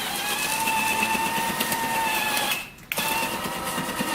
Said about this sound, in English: you can be actually snow blowing while you're changing the chute direction